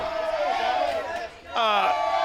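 A wrestling arena crowd roars and yells continuously, loud and dense, with a commentator's voice talking over the noise.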